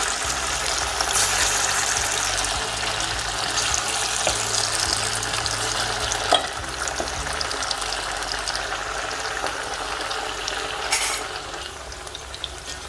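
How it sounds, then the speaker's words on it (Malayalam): Continuous loud bubbling sizzle of chicken deep frying in hot oil for Chicken 65, close up and steady, with occasional faint clinks and no voices. "നമുക്ക് നമ്മുടെ ചിക്കൻ വറക്കാൻ തുടങ്ങാം."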